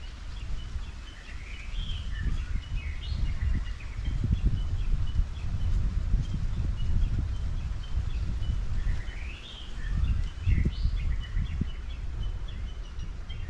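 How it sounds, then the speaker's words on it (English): Birds singing in a Kauai forest along a trail, several bright chirping phrases in two clusters at mid distance over steady wind and rustling leaves, no talking. "The birds have a lot to say here."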